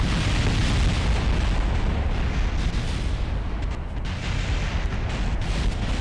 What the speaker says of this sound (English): Took all that time just for it to fucking explode.